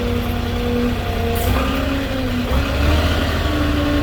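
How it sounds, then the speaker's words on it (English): A Moffett truck-mounted forklift side-shifting and then driving to line a load up against a wall in a tight space, its engine droning steadily and close throughout with low rumble and shifting hydraulic tones. "I can line it right up against the wall just by side shifting right and then driving right with the forklift"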